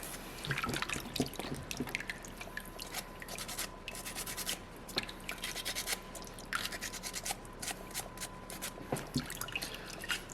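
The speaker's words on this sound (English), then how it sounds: "Every time I'm rinsing off my stone, you're going to notice I'm always rinsing my sandpaper as well." Water running and dripping while a soapstone seal carving and its sandpaper are rinsed, a steady wet splashing and rubbing wash with scattered drips, close and continuous.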